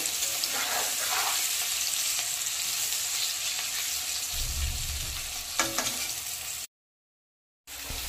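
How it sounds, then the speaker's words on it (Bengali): Boiled potatoes frying in hot oil in a pan until reddish, a steady close sizzle with occasional stirring scrapes, then a brief dropout of silence before the frying resumes. "আলুগুলো দিয়ে এবার লাল লাল করে ভেজে নেব।"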